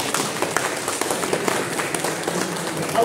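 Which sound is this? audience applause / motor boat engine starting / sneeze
audience applause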